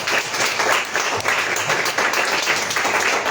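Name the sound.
congregation applause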